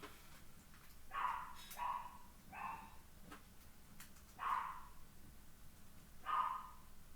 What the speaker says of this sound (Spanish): ese perrito latoso no deja de ladrar